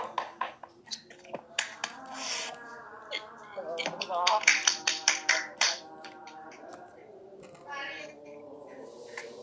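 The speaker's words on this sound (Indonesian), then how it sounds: "kita beri aplaus dulu" A class on a Zoom call applauds, with scattered, uneven claps and snapping sounds from several participants coming through laptop microphones in irregular bursts, and faint voices in between.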